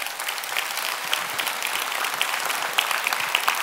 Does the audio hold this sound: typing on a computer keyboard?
no